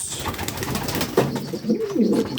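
Racing pigeons coo nearby in a loft in low, rolling calls, several overlapping, over a busy background of rustling and fluttering.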